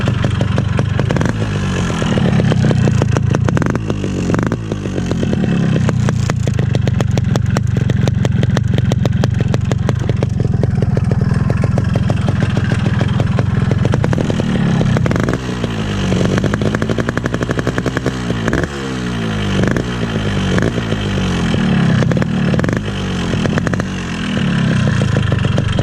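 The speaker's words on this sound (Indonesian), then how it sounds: "karena berisiknya mesin banget, berisik mesin." A stock, original-condition 2002 Yamaha RX King motorcycle engine runs loud and close, with a harsh, steady, rattling drone and occasional small rises in revs throughout, and no talking.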